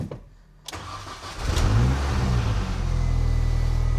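A car engine cranks and fires up after the factory airbox and ECU are refitted, catching at once and settling into a steady, loud idle close by with a brief rev, no voices.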